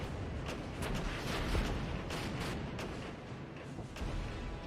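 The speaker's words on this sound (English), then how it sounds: "That artillery's got to be too much." Artillery fire in the Regiments war game at an air base, a dense continuous rumble of distant booms and bursts with sharper blasts scattered across it, steady and moderately loud throughout.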